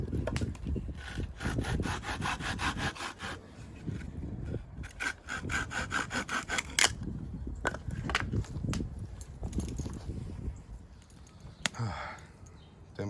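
Dry firewood being hand-sawn into lengths beside a campfire, rhythmic back-and-forth rasping strokes at close range, pausing briefly with a few knocks and shuffles between bursts of sawing.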